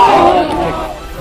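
A crowd of roughly 500 to 600 protesters gathered at Muri railway junction, heard as a loud, steady murmur of many voices with raised shouts near the start, fading slightly toward the end.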